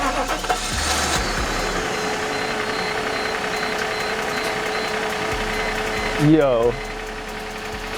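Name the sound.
car engine starting after new spark plugs and ignition coil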